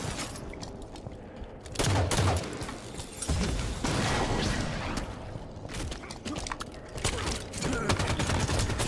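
Light rifle shots ring out in Halo 5: Guardians multiplayer on Xbox, a dense, sustained run of rapid gunfire with heavy bursts and game action throughout, with no voices.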